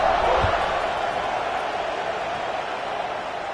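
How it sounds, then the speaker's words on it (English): Crowd noise from a college football video game, a broad, steady roar of stadium fans buzzing after a score, sustained and even throughout. "this crowd is buzzing after that last score"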